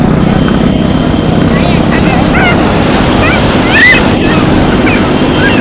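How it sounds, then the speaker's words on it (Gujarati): Large sea waves surge and crash at Madhavpur beach near Porbandar, Gujarat, a steady loud roar of surf and wind filling the scene while people talk and call out over it. "આમ જો દોસ્તો મોટા મોટા મોજા આવે"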